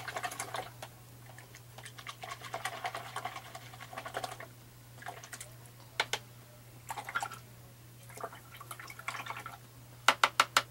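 Fan paint brush rinsed in a water container, quiet dripping, swishing and tapping clicks at irregular intervals over a low steady hum, ending in a few sharper taps; no talking.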